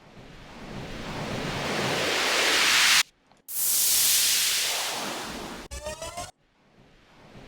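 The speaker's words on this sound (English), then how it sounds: "Riser, white noise." Swelling white noise riser sample hisses, rising steadily to a peak, cuts out, rises again, then a short stuttering burst before a fading tail.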